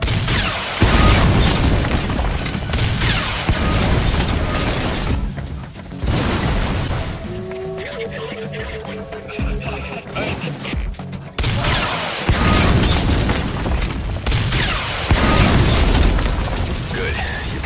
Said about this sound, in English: Surprise him with a guided missile.